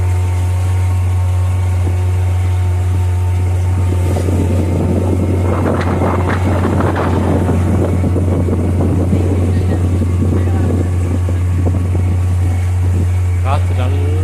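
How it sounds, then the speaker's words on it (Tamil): Strong wind buffets the microphone during a boat ride through the backwaters near Ponnum Thuruthu island, Varkala, Kerala, over a steady, close motor drone, with voices murmuring in the background. "காற்று நல்லா வீசுது."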